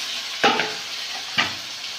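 Fried eggplant pieces go into a pan of reddish-browned chopped onions, giving a steady close sizzle with two sharp bursts of stirring and scraping.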